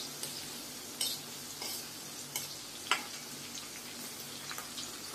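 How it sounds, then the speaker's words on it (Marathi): Green chilies frying in oil in a pan for mixed poha chivda, a low steady sizzle with scattered clicks and taps of a spoon stirring through, close and fairly quiet. "मिरच्या छान अशा हलवत तळून घेऊया"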